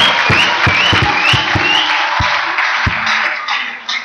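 A church congregation claps together in steady rhythmic beats, loud and close, with sustained voices or music running underneath.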